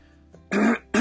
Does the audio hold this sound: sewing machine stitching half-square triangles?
no